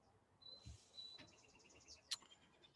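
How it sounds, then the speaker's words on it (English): Faint bird chirps and short whistled calls come from a distance over a quiet room background, with one brief brighter chirp near the end. "I've got birds in the background chirping"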